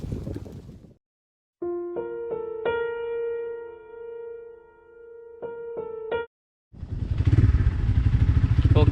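A motorcycle on a road near Kanchipuram holds a steady tonal hum, then pulls away with a loud, rough surge of engine and wind noise.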